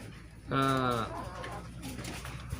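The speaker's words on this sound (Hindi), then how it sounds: "हाँ, आपने यहाँ पर कबूतर भी पाल रखे हैं।" A single drawn-out pigeon coo rises close by on a farm, followed by softer bird sounds against a faint background hum.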